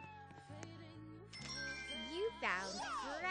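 A bright chime jingles in a cat-finding video game, followed by a short synthetic cat meow near the end; no talking.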